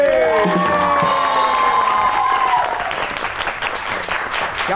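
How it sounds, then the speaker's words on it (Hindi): Studio audience at a comedy talk show breaking into applause and some cheering, a dense crowd sound with a faint tonal jingle on top, fading slightly toward the end. "आपकी बहुत सी तालियों में के one and only Adil Burke"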